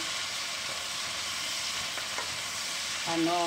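Vegetables for ginataang gulay, including squash, are stirred and sautéed in a pan, giving a steady close sizzle with occasional utensil scrapes and a brief louder clatter near the end.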